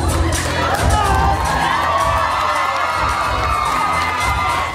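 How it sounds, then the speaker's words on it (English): A gala audience erupts in loud cheering, shouting and whooping for a dancer who performed a Dirty Dancing medley, a dense roar of many voices holding strong before fading at the end. "The crowd went wild for Eric"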